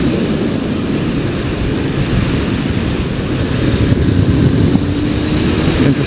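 Honda Hornet 900 motorcycle engine pulling steadily as the throttle is rolled on, a dense low rumble with wind roar over the microphone, loud and continuous throughout.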